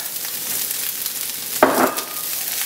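Shrimp and beef frying in a pan with egg and rice, giving a steady low sizzle throughout and a brief louder burst of sizzling and stirring partway through.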